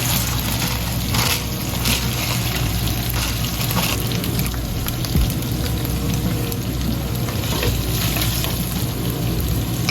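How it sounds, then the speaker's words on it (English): Ground meat frying in a pan with black pepper and dill, a steady dense sizzle and crackle that holds at an even level throughout, close up. "Next, add and cook the ground meat to the pan."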